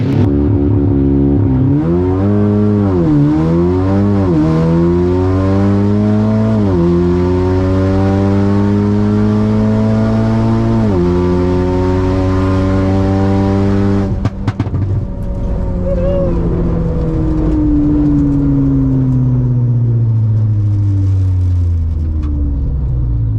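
A fully built, roughly 600 horsepower Audi S3 accelerates hard in a race, engine roaring loud and close through repeated rising revs and gear shifts.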